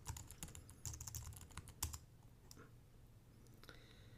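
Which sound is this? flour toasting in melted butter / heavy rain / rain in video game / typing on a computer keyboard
typing on a computer keyboard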